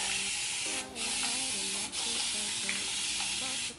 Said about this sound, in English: I'm just going to spray my hair with some water